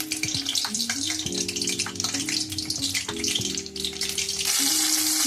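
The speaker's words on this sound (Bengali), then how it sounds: "সবকটা একই পদ্ধতিতে তৈরি করে তেলের ওপর ছেড়ে দিলাম" Pieces of loitta fish spatter and sizzle in hot oil, a dense, steady frying crackle with occasional stirring scrapes and a brighter burst toward the end.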